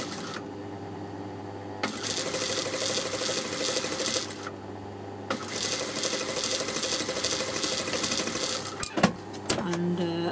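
A sewing machine stitches basic straight seams on fabric that frays easily, whirring steadily in long close-up runs with brief pauses between them and a few clicks and knocks near the end.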